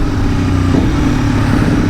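A 2020 Aprilia Tuono V4 RR motorcycle's V4 engine and exhaust running with a steady, dense growl, loud and close, continuous with no speech.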